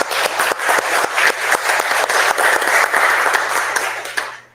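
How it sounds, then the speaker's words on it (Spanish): Audience applause at a community diploma-course session, a dense, steady wall of clapping from a crowd that stays loud throughout before cutting off sharply at the end. "Muchas gracias, un aplauso para nuestra compañerita."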